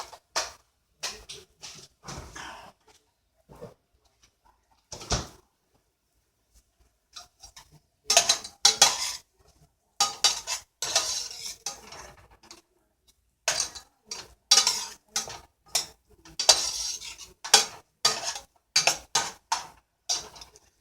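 A utensil scrapes and knocks against a pot as tomatoes with crushed red pepper are stirred for tomato velvet soup, in irregular bursts of close clinks and taps with quiet gaps between them and no talk.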